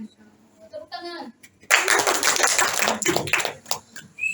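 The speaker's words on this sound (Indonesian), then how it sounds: "Tepuk tangan." An audience at a student speech event breaks into a burst of brisk, dense clapping that runs for several seconds after a short spoken introduction, fairly loud and close.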